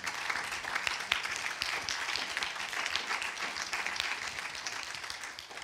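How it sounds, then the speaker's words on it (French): An audience applauds, a dense, steady clapping that lasts several seconds without voices and eases slightly at the end. "Je pense qu'on peut l'applaudir."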